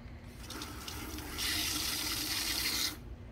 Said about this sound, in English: Let me add some water in here so that, where's my hose?